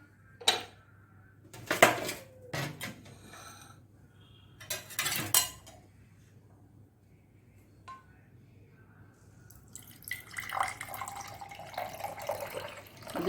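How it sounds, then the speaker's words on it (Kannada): Jaljeera, a spiced summer drink, is strained in a kitchen: scattered clinks of metal utensils and vessels, brief splashes and drips, then a steadier trickle of liquid toward the end. No one speaks. "ಇದನ್ನು ನಾವು ಗಾಳಿಸಿಕೊಳ್ಳೋಣ."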